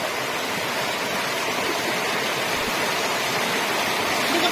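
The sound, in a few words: water gushing out from a tree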